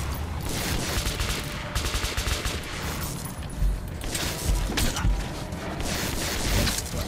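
Rapid bursts of automatic gunfire crackle and boom repeatedly in a dense, loud barrage in the video game Metro 2033 Redux.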